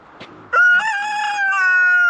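A rooster crows loudly and close by on a pasture pig farm, one long drawn-out call after a brief soft sound.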